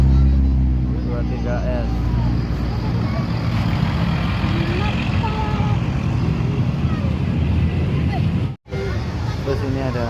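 An intercity Sinar Jaya bus on the Jakarta–Wonosobo route passes along a busy roadside, its engine rumble steady and loud beneath continuous crowd chatter and nearby voices, with one brief dropout near the end.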